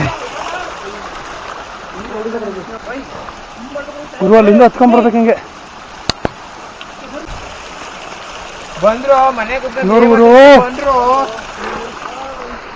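A stream near Bandaje falls, fed from inside the hillside, flows in a constant soft rush beneath loud conversation between friends, with a couple of sharp clicks.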